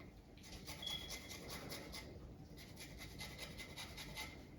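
Lemon zest grated over pan-fried chicken cutlets: soft, quiet rasping strokes repeat in a steady rhythm, pause briefly, then continue, close by with no talking.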